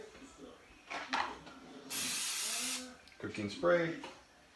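A short burst of aerosol cooking spray hisses for about a second between bits of nearby talking.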